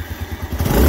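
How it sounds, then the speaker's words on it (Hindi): A Suzuki GD110s motorcycle engine catches after a push-button start, a low uneven thudding idle that firms up and grows louder toward the end, close by. "इसको 2 टाइम आपने प्रेस करना तो ये बाइक स्टार्ट हो जाती है"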